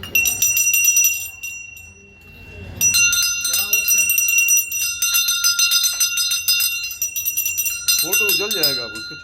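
A hand bell rings steadily and insistently through a Satyanarayan aarti, its bright metallic peals continuous across most of the stretch while people talk and call out nearby.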